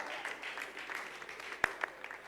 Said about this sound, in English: A round of applause, ladies and gentlemen, for Jennifer.